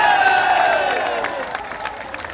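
Crowd at a political rally at a Burhanpur crossroads, cheering and applauding loudly at first and then slowly fading, with a voice over it.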